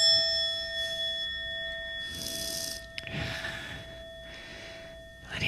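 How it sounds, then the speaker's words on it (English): A meditation bell rings with a bright, sustained tone that lingers and slowly decays across the whole stretch, while soft breathing and faint rustling from a yoga class sound underneath. "Letting the sound of the bell bring you back to your true home"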